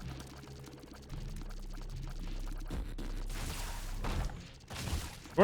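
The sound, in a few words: Lingering Bean sound effect in The Binding of Isaac video game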